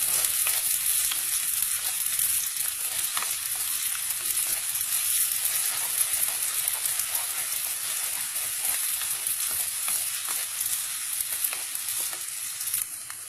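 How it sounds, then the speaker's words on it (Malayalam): Onions sautéing in a pan for Goa fish curry give off a steady, close sizzle and crackle for the whole stretch, with scattered stirring scrapes and no voices. "സവാള എല്ലാം നന്നായിട്ട് വഴണ്ടി വരണം"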